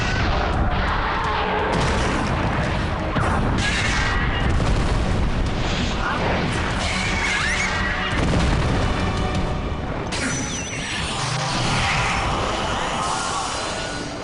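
Explosions from an Ultraman Geed attack in the tokusatsu series boom and rumble loudly and continuously, with dense, roaring blasts overlapping across the whole stretch.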